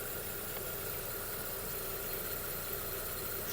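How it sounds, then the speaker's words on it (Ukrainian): A Volkswagen Passat B5+ engine idles steadily, a constant low hum and rattle with no change in speed throughout. "Робота двигуна, двигун працює чітко"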